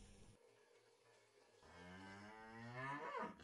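Dairy cattle on a Kenyan farm let out a long, loud, close moo that swells in strength, preceded by a brief quieter low call.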